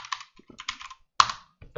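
Keys clack on a computer keyboard as a word is typed into a terminal, a quick run of sharp, close taps in two or three bursts, alone without any talk.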